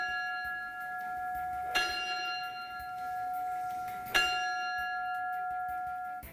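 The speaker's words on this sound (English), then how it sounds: "3 tolls of a bell, a tradition for a firefighter's last alarm" A church bell tolls twice for a firefighter's last alarm, each clear strike ringing out and fading slowly, heard quietly and at a distance with stillness between.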